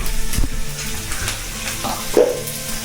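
Egg bhurji frying in a pan gives a steady close sizzle with soft stirring scrapes, and a brighter spatter of crackle near the end.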